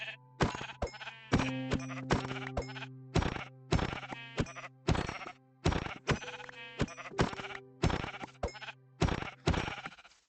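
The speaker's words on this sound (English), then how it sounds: "Oh, look, it's the sheep we needed last night." Sheep in the Minecraft video game bleat again and again in quick, uneven succession, each short nasal call close and clear against silence, with no talking.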